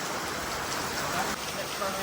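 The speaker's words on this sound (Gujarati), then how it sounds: "જો વરસાદ વધ્યો." Heavy rain pours down in a steady, dense hiss that stays at an even level throughout, close and loud, with no break.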